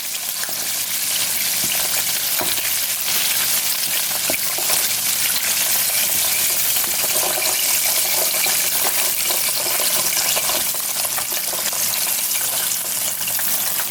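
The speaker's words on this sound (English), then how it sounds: "Just go ahead and mix them around a little in the barbecue sauce." Fried golden-brown chicken wings tossed in barbecue sauce, giving a continuous loud wet sizzle with frequent clicks and scrapes of mixing, close up with no talking.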